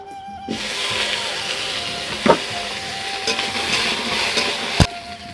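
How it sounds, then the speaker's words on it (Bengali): Boiled Malabar spinach stems and potato hitting a hot wok, a loud steady sizzle and hiss up close, with a few sharp clanks of utensils against the metal. "আর যে পুঁই খাড়াটার আলুটা সিদ্ধ করে রেখেছিলাম সেটা এখন আমি কড়াতে দিয়ে দিচ্ছি"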